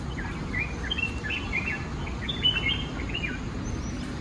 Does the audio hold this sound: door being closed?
no